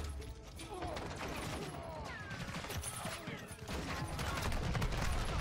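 Rapid overlapping gunfire and clattering effects from a Call of Duty Modern Warfare II match on Shipment, dense and continuous at moderate level.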